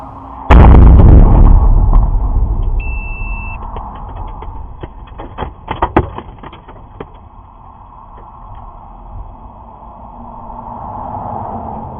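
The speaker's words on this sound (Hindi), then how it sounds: "ईरान की काफ़ी सारी क्लस्टर बैलिस्टिक मिसाइलें लगातार तेल अवीव और इजराइल के इलाकों में जाकर गिरती हुई नजर आ रही हैं।" Cluster ballistic missiles strike Tel Aviv: a sudden heavy blast booms loudly and rolls off into a long rumble, followed by scattered sharp cracks and pops and a steady distant murmur.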